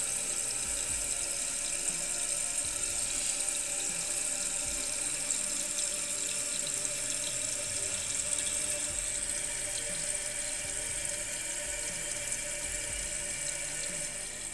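Toilet tank refilling through a Fluidmaster 400A fill valve, with a steady hiss of water rushing and trickling at close range, constant and unbroken, with no voices.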